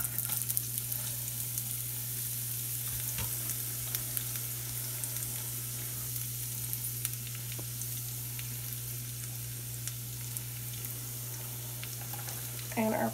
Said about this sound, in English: So this is olive oil and pork fat.